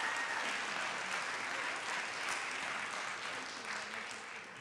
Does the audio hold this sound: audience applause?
yes